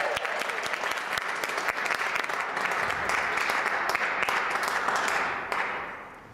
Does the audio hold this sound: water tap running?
no